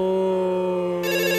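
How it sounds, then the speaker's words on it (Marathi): A telephone rings with a steady electronic tone that shifts to a brighter pattern partway through, loud and alone for a brief moment. "अरे फोन वाजतोय तुझा"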